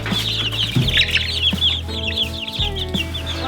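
Large young chickens cluck and squawk in a busy, overlapping chorus, close and steady, with a few sharper louder calls breaking through and no voices.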